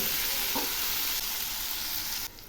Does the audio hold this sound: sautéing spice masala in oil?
yes